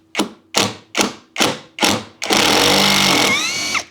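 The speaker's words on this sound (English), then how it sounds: "here's where you're going to see the drill just kind of give that pulsing motion in order to remove the screws" Kreg Ionic Drive impact driver backing out screws: five sharp pulsing bursts of the motor at steady half-second intervals, then a longer continuous whirring run that rises in pitch before stopping, loud and close.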